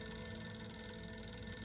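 A telephone rings in the video game Harold Halibut, a steady electronic ringing tone with a sustained, even buzz, fairly quiet and with no talk over it.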